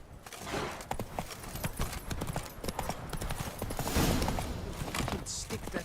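Geralt's horse Roach trotting in The Witcher 3, with busy, close hoofbeats mixed with game music and other effects, and voices speaking over them.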